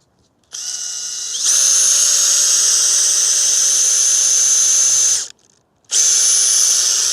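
A power drill driving screws into insulation board: a loud, steady high-pitched whine held for several seconds, a brief stop, then the motor revving up again, close and alone.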